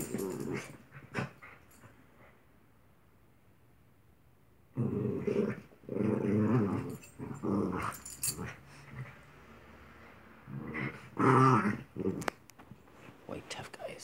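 Two white dogs fighting in Anaheim, trading deep throaty growls in bursts, close and loud, with a long quiet gap before the growling flares up again along with some whimpering.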